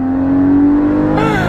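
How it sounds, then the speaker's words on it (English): Porsche Cayman exhaust revving up loud and close, a steady low engine drone that rises sharply in pitch near the end as the revs climb. "Before I let you go, just listen to this exhaust."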